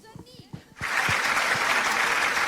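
Studio audience bursts into sustained applause for a singer on a live variety show, starting abruptly after brief speech and holding steady and loud to the end.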